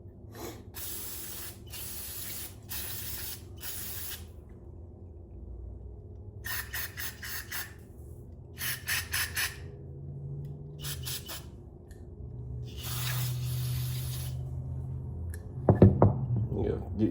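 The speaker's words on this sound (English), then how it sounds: "like to take the air compressor, blow through it also." Compressed air from an air compressor blasts through a small engine carburetor in several sharp hissing bursts of a few seconds each, separated by pauses, with a low motor hum underneath and a clatter near the end; a person talks in between.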